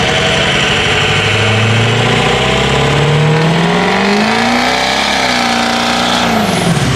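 Ford 6.0 Powerstroke diesel truck engine pulled to half throttle, a loud, close roar that climbs steadily in pitch as it revs, then levels off near the end.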